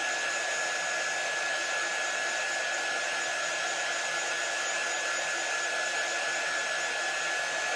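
A hair dryer blows steadily and loudly at close range throughout, drying paste on a patriotic cupcake craft, with no talking.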